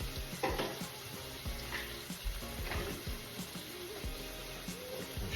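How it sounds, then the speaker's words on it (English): Bacon and sausage frying in a pan, a steady close sizzle with crackling grease pops and occasional stirring scrapes, continuous and fairly soft with no talking. "shouldn't need any more butter with all of this bacon and sausage in here, creating the grease, right?"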